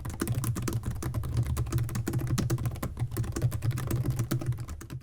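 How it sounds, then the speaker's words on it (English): Rapid, continuous clicking of laptop keys being typed on, close up, an even rhythm of soft keystrokes with no voices. "The keyboard feels like, well, a laptop keyboard."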